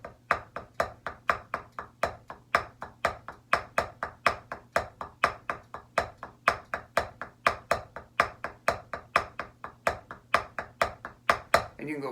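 Fast snare-style drum double-stroke rudiment with accented doubles, a steady stream of sharp close strokes in even paired groupings at about four per second, played alone with no talk.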